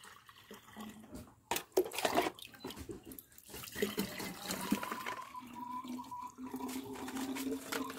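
Water pours into a container for a fig tree leaf-rust treatment, splashing unevenly at first, then settling into a steady rising fill sound, close by and fairly quiet, with no speech.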